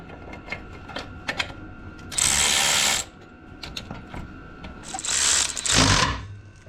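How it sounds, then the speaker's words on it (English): A ratchet spins nuts onto bolts on a Jeep TJ being rebuilt from a wreck, with two loud close bursts of rapid ratcheting separated by lighter clicks and handling noise. "He's getting the bolts or the nuts started back on it."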